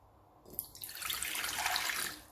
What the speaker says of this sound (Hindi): इसके अंदर हमने डालना है आधा कप पानी।